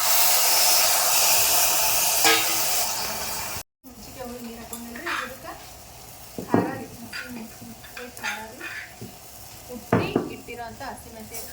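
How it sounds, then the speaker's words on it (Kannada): Tamarind water is poured into garlic and coriander frying in a pan, setting off a loud, steady sizzle. After a short break, quieter spoon scrapes and utensil clinks follow as the mixture is stirred. "ಈ ರೀತಿ ಸ್ವಲ್ಪ ಗೋಲ್ಡನ್ ಕಲರ್ ಬಂದಮೇಲೆ ಇದಕ್ಕೆ ಹುಂಚಿಕೆ ಹುಳಿ ನೀರು ಹಾಕೋತೀನಿ"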